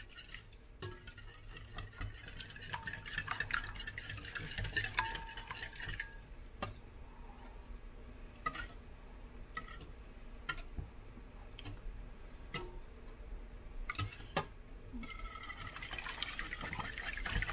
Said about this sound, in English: watch me whisk a bunch of eggs and milk